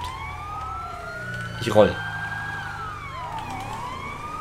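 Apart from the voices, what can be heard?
police car siren in the video game GTA 5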